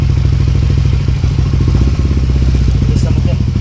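A Yamaha Aerox 185cc scooter engine fitted with an Aracer Mini X ECU revs loudly and close by, its rapid pulsing firing beat continuous throughout.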